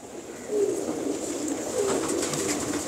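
Pigeons coo from a loft in two rounded, throaty bursts, the second starting near halfway, over a steady hum of background noise.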